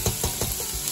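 Chicken biryani ingredients sizzling together in one pot while being stirred, with a steady close frying hiss broken by several rhythmic scraping strokes of a spoon against the pan.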